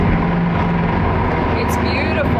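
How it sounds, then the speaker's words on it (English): A luxury car idles just after its engine starts, a steady low rumble close by with a faint whine, while someone talks over it. "All right, engine start."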